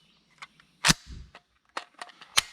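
A magazine is inserted into a Zastava PAP M90-PS 5.56 NATO AK rifle, giving a few sharp close metallic clicks and knocks spread over a couple of seconds, with a soft rattle between them.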